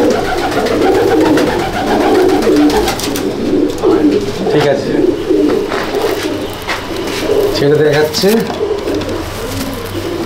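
Madrasi pigeons, an old breed kept in a loft, coo in a steady overlapping murmur with someone talking over them throughout.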